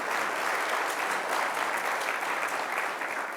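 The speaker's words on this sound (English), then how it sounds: "So let's welcome both Lee and Thomas with a warm round of applause" A conference audience claps warmly with dense, continuous applause at moderate volume for a few seconds. No one speaks over it.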